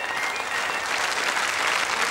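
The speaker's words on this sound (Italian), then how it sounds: "Fatevi per favore un applauso a voi stessi" Studio audience at a Sanremo 2008 special TV show applauding steadily, a dense wash of clapping that stays loud and even from start to finish with no voices over it.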